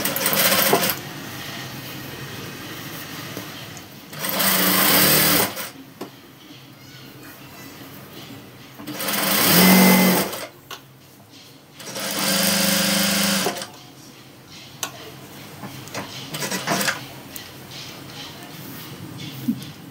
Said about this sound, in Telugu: పైన నుంచి మళ్ళీ ఇంకొక కుట్టు వేద్దామండి